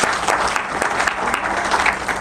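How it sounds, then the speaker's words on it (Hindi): An audience at an NHPC retirement ceremony claps loudly for a retiring employee, sharp individual claps standing out within a lively, steady burst of applause. "गोपाल यादव जी के लिए एक बार जोरदार तालियां हो जाए।"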